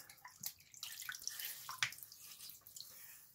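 Tap water running and splashing while a Wilkinson Sword razor blade is rinsed, with irregular drips and splashes, faint and close.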